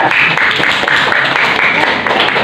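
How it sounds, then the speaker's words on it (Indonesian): A classroom group claps for a student group after their presentation on congregational prayer, a dense, loud burst of many hands clapping continuously, with a voice faintly underneath. "tepuk tangan dulu buat kelompok 3"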